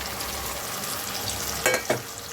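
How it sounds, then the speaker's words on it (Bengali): Water lily stems fry with onions in a pan, a steady close sizzle broken near the end by two brief stirring scrapes, with no one speaking. "শাপলাটা ভালো করে নাড়াচাড়া করে নেবো"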